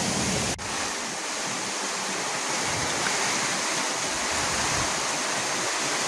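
Very heavy rain pouring down on a village, a dense, steady roar of falling water that continues without pause, with no voices.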